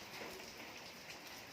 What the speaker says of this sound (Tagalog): Alam mong umuulan.